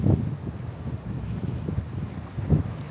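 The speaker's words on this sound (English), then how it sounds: "It's so windy." Strong wind near a docked Carnival Encounter cruise ship at a Brisbane terminal pounds the microphone with low, blustery rumbles and two sharper gusts at the start and near the end, and no talk.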